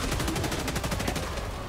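Rapid automatic gunfire from weapons in the video game Helldivers, a dense, loud, steady stream of shots running throughout without pause.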